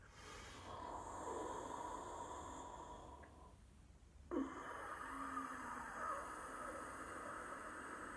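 Slow, airy breathing through the nose with a soft hissing whistle, one long exhale, a brief pause, then another steady breath, close and quiet.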